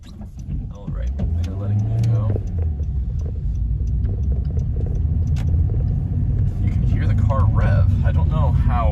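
A used manual-transmission car's engine rumbles steadily while driving, held at low revs, loud and continuous with someone talking over it throughout.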